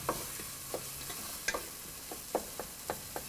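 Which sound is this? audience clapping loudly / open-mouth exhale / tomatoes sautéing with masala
tomatoes sautéing with masala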